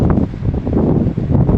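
Strong wind gusts over a beach during a storm, with the rush of sea waves mixed into a dense, steady roar that is loud and close, with no voices.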